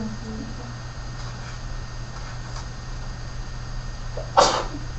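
One sharp sneeze bursts out near the end, standing above a steady low hum of room noise.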